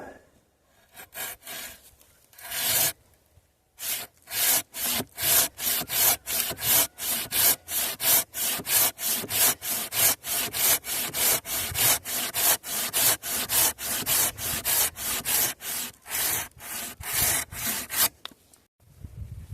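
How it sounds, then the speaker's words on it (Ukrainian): A homemade Ukrainian hand saw cuts through wood in fast, even back-and-forth strokes, a loud rasping rhythm that runs steadily for many seconds after a brief pause near the start. "що ж, спробуємо тепер мою пилочку."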